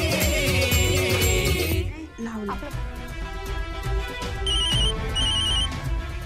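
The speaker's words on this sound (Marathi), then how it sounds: "मामींचा फोन आहे." An electronic phone ring trills several times, loud and steady, with background music and a voice speaking partway through, in a Marathi TV serial.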